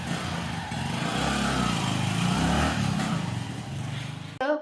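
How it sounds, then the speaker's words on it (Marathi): A motorbike engine runs steadily at close range with a rough, buzzing drone that swells slightly in the middle before a brief clunk at the end, with no talking over it. "बाईक"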